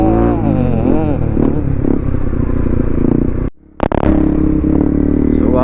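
A motorcycle engine roars loudly nearby with shifting revs, cuts out abruptly for a moment, then surges back with a rattling burst.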